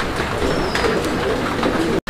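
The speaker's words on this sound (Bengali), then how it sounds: "কবুতরগুলো দেখেন, আমি একটু লাড়াচাড়া দিয়ে দেখাই।" White Jacobin pigeons coo and rustle while being handled up close, with soft repeated calls and fluttering against a steady background noise, ending in a brief dropout.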